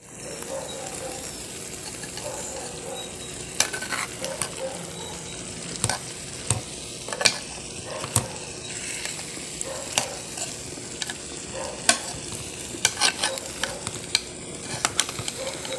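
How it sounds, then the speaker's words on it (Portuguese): Chopped tomato, onion, garlic and herbs sauté with sliced sausage in a pan, giving a steady close sizzle with repeated scraping stirs and clicks of a utensil against the pan throughout. "Coloca tudo dentro da salsicha e leva para refogar."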